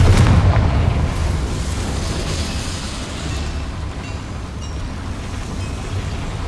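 A Confringo blasting spell from Hogwarts Legacy detonates with a loud, deep boom, and a rumbling low roar then decays steadily over several seconds.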